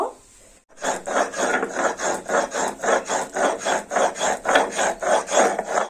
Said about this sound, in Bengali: এবার গরম মশলাটা বেটে নেব।